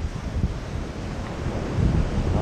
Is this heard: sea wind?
yes